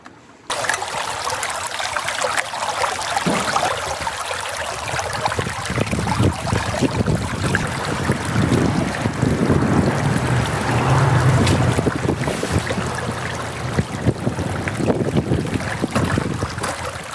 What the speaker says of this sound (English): we're gonna run this box through the sluice and we'll see what we get.